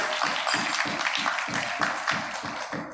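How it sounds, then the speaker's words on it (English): An audience claps for the winning team at a live quiz results announcement, the clapping fairly loud and rhythmic with regular pulses, as if many hands are falling into a shared beat. "Can you have a big round of applause?"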